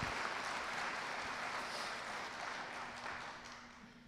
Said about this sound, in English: let's get another round of applause for all of our students